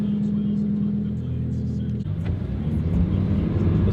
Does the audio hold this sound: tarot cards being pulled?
no